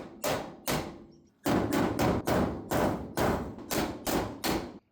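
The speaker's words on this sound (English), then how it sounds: "I'll just hammer and dull it to get everything flat." A hammer strikes the steel quarter panel of a 1973 Dart Swinger with about ten sharp, ringing metallic blows. Two come first, then a brief pause, then a steady run of eight evenly spaced hits, close and loud.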